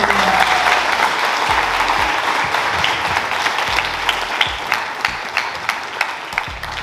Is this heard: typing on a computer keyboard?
no